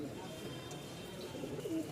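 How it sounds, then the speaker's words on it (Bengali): Giribaj pigeons, including red Lal Sundori birds from Rajshahi, coo softly at close range in a short burst of low, throaty calls over faint background noise. "আমি একটু ডাক দেখাই দিই কবুতরগুলো"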